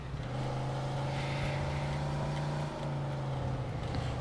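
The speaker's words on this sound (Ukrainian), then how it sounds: "Реально я без гальм їду." A car with no brakes driving in the Mafia 2 video game gives a steady low engine drone at constant pitch, quiet and continuous with no talk.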